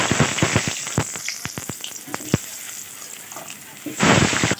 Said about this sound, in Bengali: এবার আমরা আলুটাকে ভেজে নেব